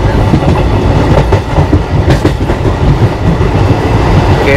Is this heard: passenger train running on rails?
yes